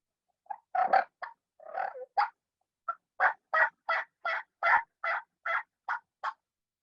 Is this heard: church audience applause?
no